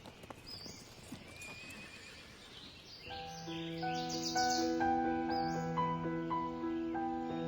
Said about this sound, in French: Galoper à cheval sur une route droite et dure au claquement des sabots ferrés